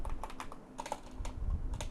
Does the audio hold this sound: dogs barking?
no